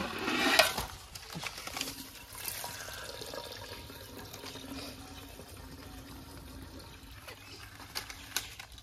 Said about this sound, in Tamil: அந்த பாட்டில் தண்ணி எடுத்து ஊற்று